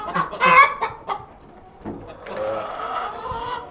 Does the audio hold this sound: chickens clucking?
yes